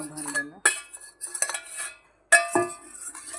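Spoon scraping and clinking against the inside of a vessel while spreading a spoonful of curd around it, in short bursts of metallic ringing strokes separated by brief pauses, close up.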